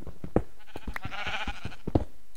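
A sheep bleats in the video game Minecraft, one drawn-out wavering bleat in the middle, surrounded by sharp clicking thumps and no speech.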